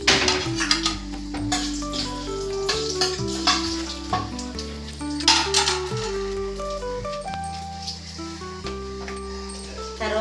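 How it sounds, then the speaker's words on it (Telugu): Dried red chillies, added after cinnamon and cardamom, sizzle and crackle in hot oil for jeera rice, with steady frying and occasional stirring and pan clatter. "ఎండుమిర్చి వేసుకుంటున్నాను."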